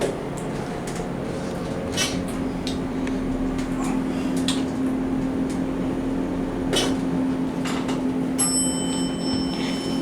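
Steady low machinery hum from a Dover Impulse hydraulic elevator at a La Quinta Inn & Suites in Kodak, with small clicks, then a single clear mechanical bell ding near the end that rings on to the close.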